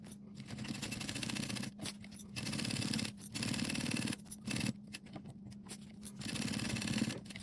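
Sewing machine running long basting stitches along a fabric zipper pouch, a steady mechanical whir with a low hum, coming in repeated bursts separated by short pauses.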